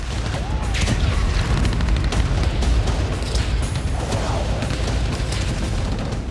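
A dense, continuous rumble of missile strike explosions, booms and crackling blasts rolling on throughout, loud and heavy with no clear pause.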